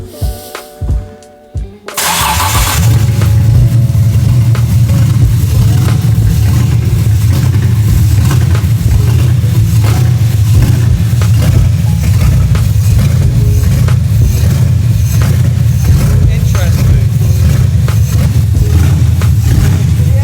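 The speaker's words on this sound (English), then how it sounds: "the engine doesn't sound very happy" A BMW E46 330ci coupe cranks briefly and catches, then settles into a loud, uneven idle that rumbles on steadily with a rough, unhappy note and no talk over it.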